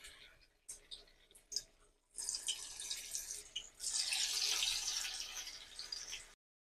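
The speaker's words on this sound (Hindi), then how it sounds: "अब इसे हम फ्राई करते हैं।" Potatoes dropped one by one into hot oil, bursting into a loud, steady, bright sizzle that builds and holds for several seconds after a few quieter clicks and splashes.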